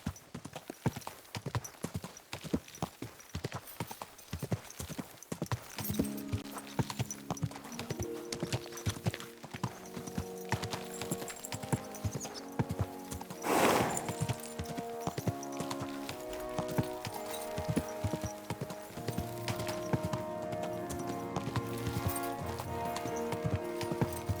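Rapid horse hooves clip-clop in a steady galloping rhythm in the video game Kingdom Come: Deliverance II, with music playing underneath and a brief whinny partway through.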